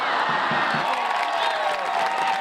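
A sellout crowd at a women's soccer match with the Chicago Red Stars, cheering loudly as a dense, steady roar of many voices with scattered whoops throughout.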